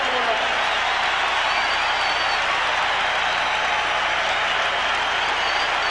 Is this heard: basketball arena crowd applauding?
yes